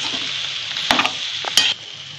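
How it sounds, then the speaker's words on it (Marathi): Potato filling for vada pav stirred and sautéed in a wok, a steady sizzle with a few sharp scrapes and clinks of the spoon against the pan, close and without talk. "आता भाजी मी चांगली परतून घेते 2-3 मिनिट."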